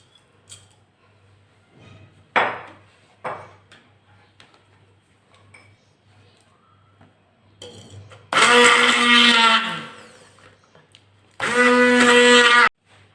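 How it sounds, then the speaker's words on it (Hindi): An electric grinder pulverises dry fruits and dry spices in two loud, close bursts of a few seconds each, with a brief gap between them. Clicks and small handling knocks come before the bursts. "पहले मैं ड्राई मसाले को, ड्राई फ्रूट्स को पीस लूँगी अच्छे से।"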